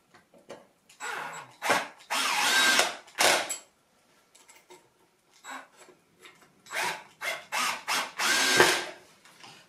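A power drill driving screws into an Ashford Kiwi 3 folding spinning wheel, with several separate whirring bursts of varying length broken by short pauses, close and moderately loud, and nobody talking.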